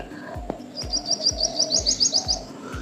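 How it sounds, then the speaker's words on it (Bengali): Morning birdsong from several kinds of birds: quick trilling chirps bursting in a rapid run, with softer calls around them and faint dull knocks underneath, moderately close outdoors. "কত রকম পাখির ডাক শুনতে পাচ্ছ"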